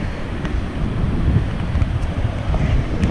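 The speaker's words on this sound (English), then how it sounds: "there's a lot of wind, and I wanted to kind of block some of that wind" Strong wind on a beach on the Oregon coast, a constant loud rumbling buffet across the microphone with the wash of surf beneath it, steady for the whole stretch.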